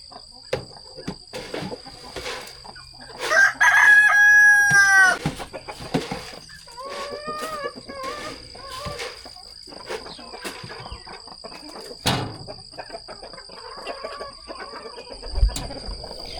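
A rooster crows loudly once, then hens cluck and chatter softly, with insects buzzing faintly in the background, around food thrown out for them.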